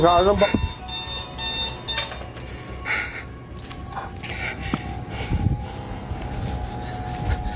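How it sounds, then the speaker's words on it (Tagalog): An electronic alarm sounds indoors as someone walks through, its repeated beeping tones running under someone talking and loud background movement. "now the fucking alarm's going off."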